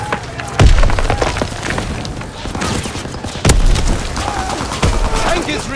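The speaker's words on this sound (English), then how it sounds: "The enemy destroys the bridge!" A bridge is destroyed in Call of Duty: WWII while battle noise goes on. Loud booming blasts and cracking impacts rise over constant gunfire and clatter, near and heavy.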